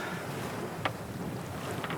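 A sailboat moves under sail in moderate wind off Lokémo, with a steady rushing of wind and water against the hull and a faint creak or tick of rigging, with no voices.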